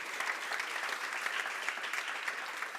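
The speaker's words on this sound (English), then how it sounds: "Round of applause for Kaitlyn." An audience applauds steadily through the whole stretch, a dense, even wash of many hands clapping at moderate distance with no voices over it.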